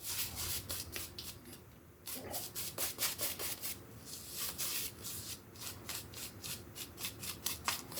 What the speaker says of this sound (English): They have enough backbone to really get a lather going.